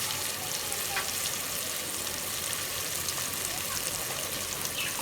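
Mutton frying in a pot for pulao, being stirred and mixed, gives a steady close crackle and sizzle with faint scraping, no voices over it.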